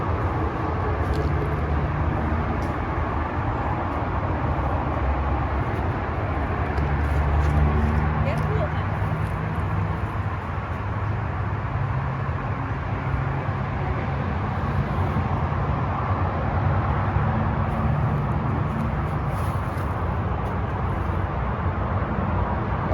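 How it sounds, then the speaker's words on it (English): Steady low roar of highway traffic from Highway 249, with cars driving by near a park, heard as a continuous distant rumble throughout, with faint outdoor ambience on top. "so you can hear the highway in the background with all the cars driving by."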